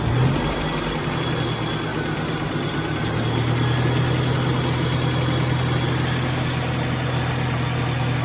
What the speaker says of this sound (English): So we want to rev this thing up to about 1200 RPM.